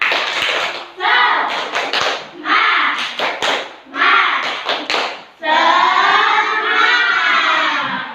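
Classroom of fourth-grade children performing a rhythmic spirit clap, sharp hand claps in quick patterned bursts with short pauses, ending in loud group chanting voices.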